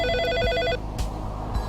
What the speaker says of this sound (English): Oh, looks like it's already ringing.